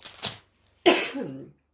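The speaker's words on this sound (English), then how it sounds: "Sorry, coughing fit." Two harsh coughs close to the mic, the second one longer and throatier, separated by a short silence.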